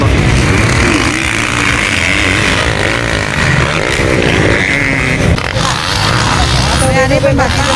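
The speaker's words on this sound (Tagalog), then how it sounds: "Galupok-lupok motor." A motocross motorcycle engine sputters and revs at a race in Sipalay City, loud and rough with uneven bursts, and a voice comes through over the engine noise.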